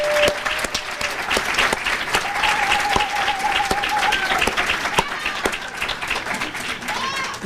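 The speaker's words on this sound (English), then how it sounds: "So I would really like to hold a round of applause for Jerry." An audience breaks into a loud, continuous round of applause at a talk on self-directed education, dense clapping filling the whole stretch from start to finish with a few whistles or cheers mixed in.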